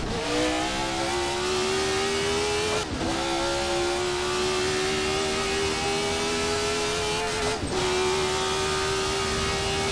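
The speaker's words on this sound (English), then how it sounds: "push basically as hard as I am able to in this 1970 F1 car" A 1970 Formula 1 car's engine in the Assetto Corsa racing game screams at high revs in a loud, continuous, slowly climbing drone, broken by two brief dips as it shifts gear. No talking.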